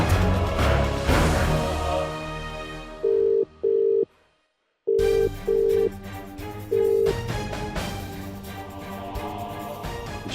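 A telephone call tone beeps in short bursts, some paired, some single, over background music, with a brief silent gap in the middle.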